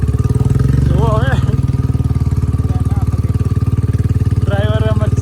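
A Royal Enfield Bullet motorcycle engine thumps steadily and loudly up close on a muddy village road, its low rhythmic exhaust pulse continuous throughout while voices speak briefly over it.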